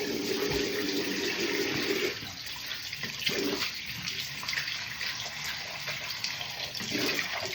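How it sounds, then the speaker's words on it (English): A tap runs steadily into a sink while someone wets their face before a shave, a close splashing flow with brief interruptions as hands move through the water. "Now I'm going to wet my face."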